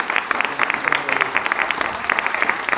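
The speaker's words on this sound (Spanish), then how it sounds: "les pido un aplauso para mis 2 presentadores" An audience at a book presentation applauds the presenters, with fairly close, uneven clapping from a modest crowd and distinct individual claps popping out of the steady patter, with some voices mixed in.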